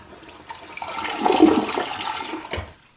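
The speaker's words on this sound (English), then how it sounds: "Now let's give it a flush on full." A 2015 UberHaus dual flush toilet flushing on the full setting: a rising rush of swirling water that peaks mid-flush, then drains away with a gurgling tail, close and alone.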